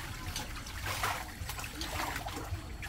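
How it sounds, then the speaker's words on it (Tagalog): Water trickles and splashes steadily as it is poured into a small mini swimming pool outdoors, a continuous close pouring sound with faint background noise. "maglagay muna tayo ng tubig"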